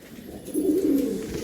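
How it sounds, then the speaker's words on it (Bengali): A male Andhra pigeon gives a single close, soft rolling coo lasting about half a second, over a quiet background. "সেটা ডাকছে ওটা নর"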